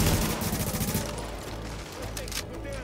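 Rapid gunfire bursts from The Division co-op video game, loud and dense in the first second, then continuing more sparsely under game sound and voices.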